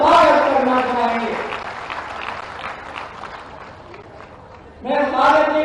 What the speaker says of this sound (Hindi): जोरदार ताली बजाकर उनका स्वागत करना चाहेंगे